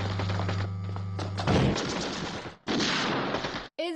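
Several gunshots crack in a scene from the James Bond movie Goldfinger, with dense, noisy bursts that cut off abruptly, following a short stretch of humming tone.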